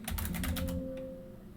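Fast burst of computer keyboard typing while entering a router hostname in a Cisco network configuration, close and crisp, then stopping abruptly into a quiet room hum.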